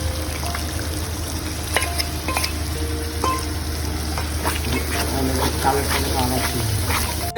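Soaked turmeric, cumin and coriander powder liquid poured into a sizzling prawn masala in a home kitchen pan, a loud steady hiss and frying crackle with scattered clinks and sharp pops throughout.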